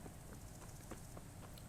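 Horse hooves clip-clopping off-road in Kingdom Come: Deliverance, a quick faint rhythmic trot of soft thuds in a continuous run.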